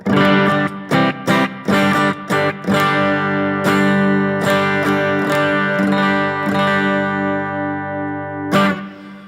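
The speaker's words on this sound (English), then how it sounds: "this is the sound of the guitar on the bridge" Electric guitar played through the bridge humbucker gives a bright, slightly driven tone, with choppy strummed chords at first and then ringing sustained notes.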